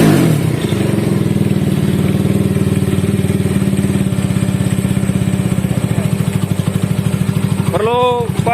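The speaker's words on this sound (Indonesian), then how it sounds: "Benar-benar baru pertama hidup ini teman-teman ya." A freshly rebuilt Honda CB motorcycle engine with a 68 mm piston and 66 mm stroke runs for the first time, idling in a steady, even close-up putter before a short voice near the end.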